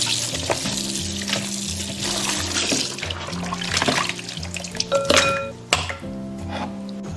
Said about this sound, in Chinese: 切好以后，我们简单给它清洗一下。